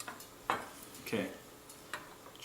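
Small metal parts click and clack as the lid is fitted onto an AEG V3 airsoft gearbox, three or four short, close knocks spaced apart over faint background hiss.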